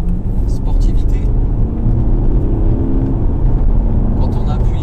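A Porsche Cayenne accelerating on the road makes a loud, steady low engine drone with rushing road noise, heard from inside the car under continuous talking.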